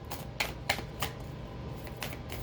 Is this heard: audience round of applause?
no